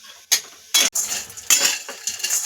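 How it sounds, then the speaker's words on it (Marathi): Maggi noodles fried in a single spoon of oil with onion, tomato and coriander in a metal pan, giving a faint sizzle under sharp, close scraping and clinking of a spoon stirring against the pan. "मॅगी आपण यामध्ये फ्राय करून घेऊया दोन मिनटं"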